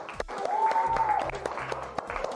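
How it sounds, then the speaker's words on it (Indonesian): Classroom applause from children rises briefly with scattered claps, fairly loud and close, while a tone and some background sounds run underneath during a robot activity in a school lesson. "Oke, kita kasih tepuk tangan semuanya."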